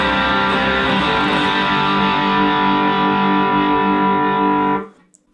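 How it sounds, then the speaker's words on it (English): Heavily saturated electric guitar chord in split coil mode with drive and boost pedal rings out steadily for several seconds, thick and driven, before being cut off abruptly. "Doesn't really get much louder with a bit of boost on, but it is more saturated."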